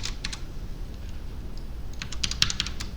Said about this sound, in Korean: 그냥 한번 할 때마다 내가 직접 타이핑해서.